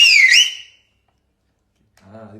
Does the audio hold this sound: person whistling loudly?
yes